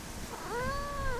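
A cat chasing a grasshopper lets out a single drawn-out meow, rising then holding and fading slightly, close by over a quiet outdoor background.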